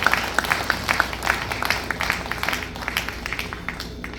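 A church congregation at a prayer meeting claps to welcome the pastor, scattered distant applause with sharp individual claps over a hollow room tone.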